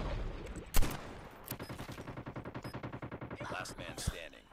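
Light machine gun fire in Call of Duty Mobile rattles off as a long, rapid, evenly spaced burst, framed by a couple of sharper louder shots before and after.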